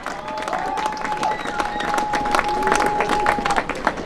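A festival crowd applauding its sponsors during an evening ceremony: dense, sustained clapping spread over the full few seconds, with a faint whistle tone and scattered voices mixed into the steady applause.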